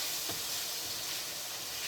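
Beef mince frying in a pan on a gas hob, giving a steady, soft sizzling hiss with a faint stirring scrape near the start.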